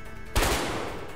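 A single burst of gunfire in a GTA game hits abruptly after a quieter lead-in, then trails off into a rumbling echo, fairly close and loud.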